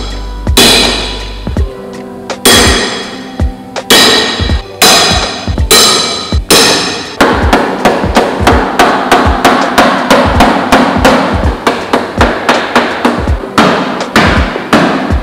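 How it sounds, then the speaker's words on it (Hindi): Metal hammer repeatedly striking a dented Maruti Swift body panel with a tyre lever in use, loud close sharp bangs, a few spaced blows at first then a fast steady run of strikes. "टाइल लीवर है, हथौड़ा है, और हम कुछ ऐसे इसका डेंट निकालने वाले हैं"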